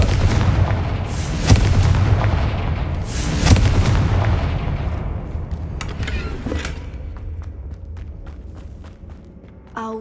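A Confringo fire-blast spell in Hogwarts Legacy sets off several loud booming explosions early on, followed by crackling debris and fading rumble, with sharp smaller impacts later.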